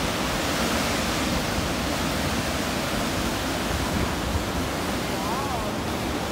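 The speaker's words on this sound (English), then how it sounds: "Oh my gosh, look at the waves." Ocean surf at Devils Churn, a rocky inlet at Yachats on the Oregon coast, roars as a steady, loud, broadband wash throughout, with wind buffeting the microphone.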